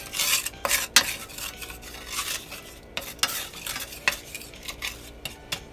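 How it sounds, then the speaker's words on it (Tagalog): A spoon scrapes and clinks against a bowl or pan as vinegar is mixed into a mixture for chicken tenders, irregular repeated metallic strokes close by over a faint background hiss, no talking. "Just mix and mix and mix"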